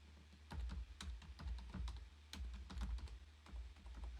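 Keys clatter on a computer keyboard in quick, uneven bursts of soft close taps, quiet and alone with a low hum underneath.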